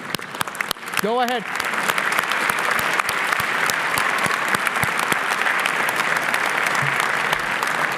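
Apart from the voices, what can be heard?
audience applause at a graduation ceremony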